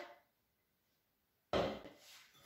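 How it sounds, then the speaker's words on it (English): A spatula scrapes out a mixing bowl in a home kitchen, a short burst of close scraping and rubbing after a silent pause, with a second brief scrape at the end. "So just give it a good scrape out with your spatula."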